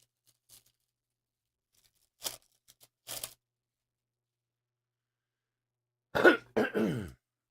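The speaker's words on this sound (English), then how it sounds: "I'm trying to clear my throat for like a half hour" Someone clears their throat several times, short harsh rasps with pauses between, ending in a longer, stronger throat clearing, close up in a quiet room.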